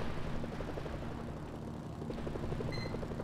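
A helicopter in flight in Mercenaries: Playground of Destruction, its rotor giving a steady rhythmic chop over a low engine drone, sustained and fairly close with no talking.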